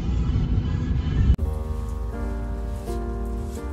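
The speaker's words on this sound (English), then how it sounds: "It is raining." Steady rain falls outside a busy mall, a continuous broadband wash with a sharp click partway through, followed by faint tonal background sound.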